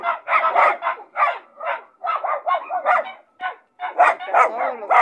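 Several dogs bark and yip in bursts inside a new pen at a house, loud and close, with brief pauses between volleys of overlapping barks.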